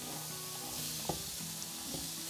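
Chopped mushrooms with diced onion and vegetable oil sizzle softly in a frying pan, a steady faint hiss broken by a few light clinks and scrapes of stirring.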